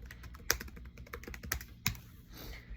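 Fast, irregular keystrokes clatter on a computer keyboard, close and fairly quiet, with a few sharper key hits standing out among the taps and a short pause near the end.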